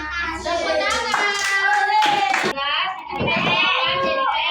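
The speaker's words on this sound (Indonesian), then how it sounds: "Tepuk tangan." Children clapping their hands in a classroom, bursts of claps mixed with loud young voices chanting and speaking together.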